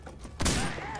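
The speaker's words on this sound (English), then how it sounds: "I'm throwing a flashbang!" A flashbang grenade goes off in the video game Insurgency, one sharp loud bang about halfway through followed by a lingering ringing tail.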